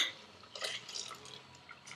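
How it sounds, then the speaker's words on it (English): Spinach (palak) puree is poured into a spice mixture for palak paneer, giving a soft, wet, sloshing flow that fades into faint drips, heard alone. "in this mixture, I'm going to pour this palak or spinach"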